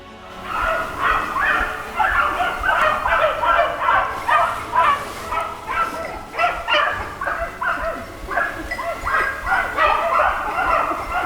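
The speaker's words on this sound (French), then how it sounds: "Ils vont lâcher les chiens." A pack of hunting dogs, just released for a hunt, bays and yips in dense overlapping barks that carry on steadily and loudly throughout.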